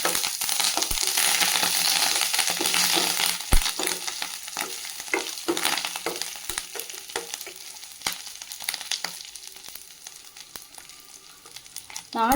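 Fresh curry leaves sizzle and crackle in hot oil, a dense close spatter with sharp pops and stirring clatter from a spoon against the pan.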